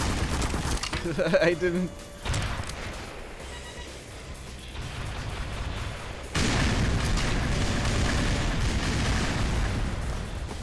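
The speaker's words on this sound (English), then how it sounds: "I now have a rocket launcher" Rocket launcher blasts in a video game land as heavy booms that roll into a sustained roar of fire and debris. A voice speaks briefly near the start.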